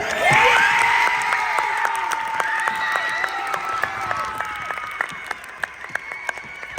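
A crowd applauds at a high school award ceremony, with sustained clapping and a few cheers, while an announcer's voice carries on through it.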